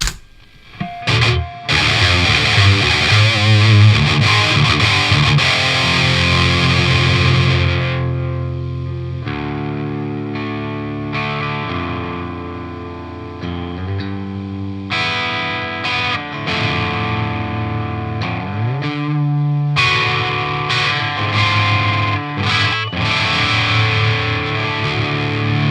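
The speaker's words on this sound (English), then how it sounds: "the 20 dB attenuated output running to the cabinet, which I'll be capturing with the SM57" A distorted electric guitar plays through a cabinet fed by a 20 dB attenuated output and miked with an SM57, with sustained chords, choppy riffs and brief pauses, full and warm rather than fizzy.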